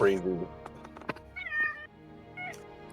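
A pet cat meows insistently to be fed late at night, several loud, close, drawn-out cries in a row, while a person talks over and between them.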